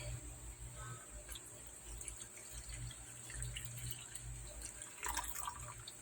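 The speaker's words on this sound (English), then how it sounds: "Now we're gonna have to fill it with water." Water running steadily from a tap or hose into a container while planting lotus seeds, a continuous trickling and splashing with a few brighter drips near the end, no voices.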